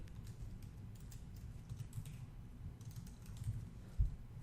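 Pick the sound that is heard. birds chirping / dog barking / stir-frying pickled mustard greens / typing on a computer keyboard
typing on a computer keyboard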